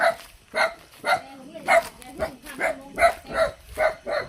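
Dogs on a rat-hunting trip in rural forest bark in a steady series of about eight sharp, evenly spaced bursts, fairly close, with people talking faintly in the background.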